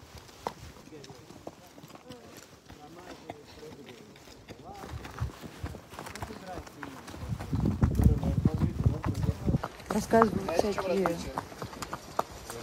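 Horse hooves clip-clop on a horseback ride at a ranch, first soft and then louder and busier midway through, while people talk over the steady hoofbeats.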